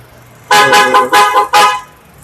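A loud Keon Sondra aftermarket horn on a Hyundai car honks in a rapid series of four short toots, bright and brassy, sounding close up with no talking.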